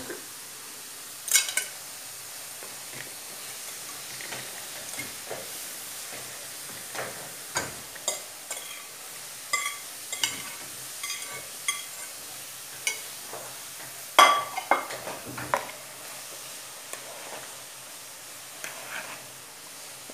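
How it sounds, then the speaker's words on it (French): A utensil stirs sliced potatoes with eggs in a pan, giving soft scraping and scattered light clicks against the metal at an irregular rhythm, fairly quiet and close, with no voices. "Et je vais mélanger pour que les pommes de terre s'imprègnent des œufs."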